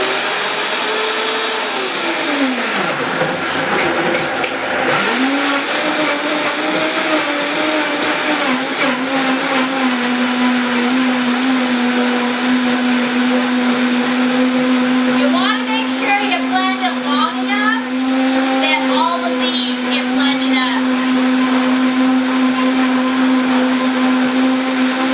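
Blender whirring steadily as it mixes a chocolate mint shake, a loud continuous motor drone that slows and dips early on, then holds a steady pitch, with brief voices faintly audible partway through.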